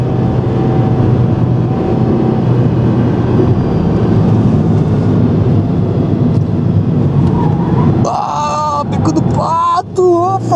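A Mitsubishi Airtrek with a V6 engine races around the Interlagos circuit, its engine a loud, continuous drone mixed with wind rush, as people talk over it toward the end.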